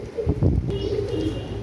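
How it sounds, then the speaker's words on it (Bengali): A pair of Oman TD pigeons from an imported bloodline coo softly and continuously at close range, with low, rolling calls and no talk over them. "একজোড়া ওমান টিডি কবুতর"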